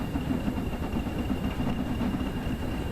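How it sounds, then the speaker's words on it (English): A Class 20 diesel locomotive in Train Sim World 4 on the West Somerset Railway rumbles steadily behind a steam engine, a low continuous engine drone with faint rail clatter, fairly loud and without talk. "We're in a steam engine with the class 20 sort of bumbling away behind us."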